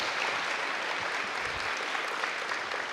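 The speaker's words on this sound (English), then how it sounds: "Give him a great big round of applause" A crowd claps loudly and steadily for a speaker at an ocean-innovation open house, a dense, even wash of applause with no talking over it.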